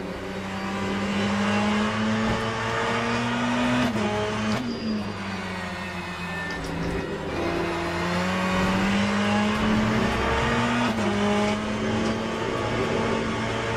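Race car engine roars steadily in the Le Mans Ultimate sim, onboard and loud, its sustained drone dipping and climbing as the car shifts and accelerates.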